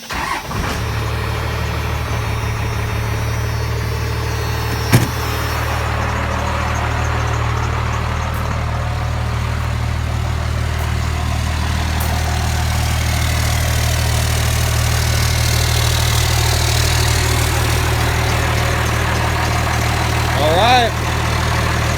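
A 1997 second-generation Ram with a 5.9L Cummins 12-valve diesel and an MBRP exhaust starts and settles into a steady, deep, close idle that rumbles evenly throughout, with a brief knock near the start.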